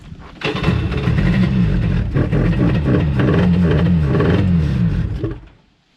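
A Kawasaki 750 SX stand-up jet ski engine cranks and catches, then runs loud and close with uneven revving and a rough mechanical clatter for several seconds before shutting off abruptly.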